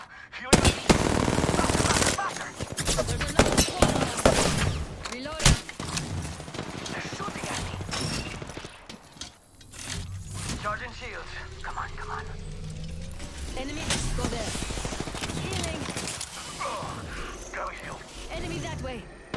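Apex Legends ranked match gunfire: dense, loud automatic bursts and single shots with mechanical clicks, heavy at the start and again in later bursts, while in-game voice lines call out between them.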